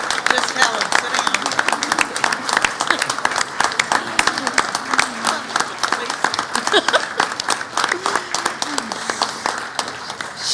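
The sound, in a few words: audience applauding at a business meeting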